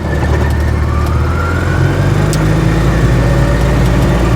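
An Invacar's engine holds a loud, constant drone while the car gathers speed through its CVT, heard from inside with a faint rising whine over steady road noise.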